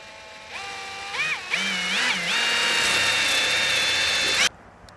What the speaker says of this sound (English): we're going to go ahead and drill this 1-inch main hole